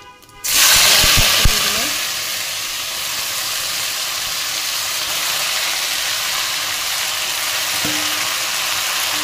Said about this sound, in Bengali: তা শুকনো লঙ্কা 5 ফোড়ন দিয়ে দিছি।